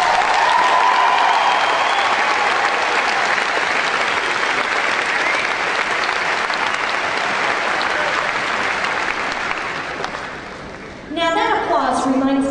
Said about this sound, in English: Congratulate yourselves and give yourselves a hand.